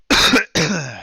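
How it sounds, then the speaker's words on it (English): A person with a mild cough coughing twice in quick succession, close to the microphone and loud, harsh throaty bursts with a short gap between them. "Sorry about that. Got a little cough right now."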